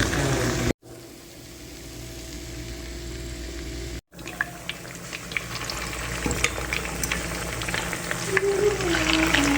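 Eggs cooking in a pan, a soft continuous frying sizzle broken by two quick cuts, growing slightly louder and busier with faint clinks and crackles toward the end.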